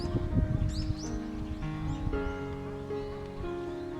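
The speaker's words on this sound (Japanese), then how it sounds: "鳥のさえずり、とても綺麗な音でした。" Birds chirping and singing among cherry trees in a quiet rural hillside grove, several bright calls rising over a soft hum and faint rustling.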